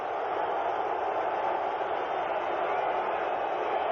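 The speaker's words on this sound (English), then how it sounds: "with the crowd noise starting up" Stadium crowd noise at a Raiders football game, a steady dense roar of distant voices holding level throughout, with no distinct peaks.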